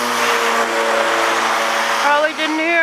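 A car engine revs steadily on a street during an October snowfall, its droning tone holding for a couple of seconds before rising and wavering near the end; there is no talking in the clip.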